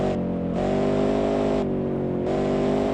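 A Gentile Chevrolet V8 prototype race car engine roars steadily in a racing video game, its loud droning note shifting in pitch as the throttle changes, with no talk over it.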